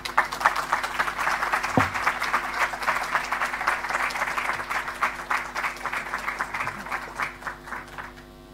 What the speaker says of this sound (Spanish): Agradecemos nuevamente con un fuerte aplauso las palabras de la subsecretaria de Educación Parvularia, María Isabel Díaz